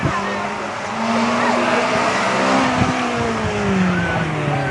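A Mazda MX5 race car drives flat out towards the finish line at a circuit, its engine loud and near, revs climbing and falling as it shifts gear, with tyre noise underneath.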